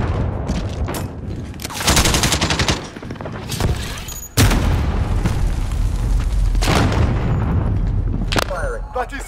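Airstrike explosions and gunfire in Call of Duty: Modern Warfare, with loud booms and rapid bursts of shots layered over continuous battle noise, with game voice callouts mixed in.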